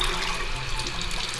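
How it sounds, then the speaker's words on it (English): Warm water runs steadily from a sink tap in a run-down Detroit motel room, a close, even hiss and splash without any break. "So it's hot and cold running water."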